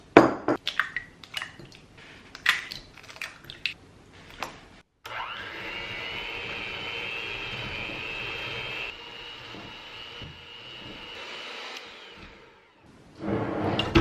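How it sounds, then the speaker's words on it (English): An electric mixer on medium speed beats sugar, vanilla and four eggs for carrot cake batter with a sustained whirring whine lasting several seconds, framed by scattered kitchen clatter and knocks before and after. "So I'm gonna keep the mixer going on medium speed"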